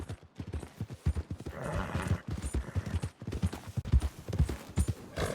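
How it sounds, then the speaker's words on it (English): Horse hooves clip-clop steadily in Red Dead Redemption 2, a close, even trotting rhythm that runs throughout with no talk. "So I'll be going up here to the stables and selling this horse and getting another horse."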